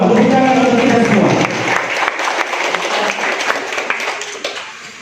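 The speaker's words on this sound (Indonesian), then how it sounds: "Tepuk tangan untuk kita semua" An audience at a teacher-training workshop in Pangkajene claps loudly after a cue from the emcee, the dense applause starting strong and thinning out into scattered claps as it fades.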